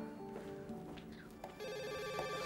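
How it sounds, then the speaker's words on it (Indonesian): A telephone rings with a warbling electronic tone, fairly faint, over a soft background in an indoor office scene. "Ada telepon, Pak."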